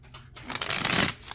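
A deck of tarot cards gets one quick riffle shuffle, a short soft burst of flicking card edges up close.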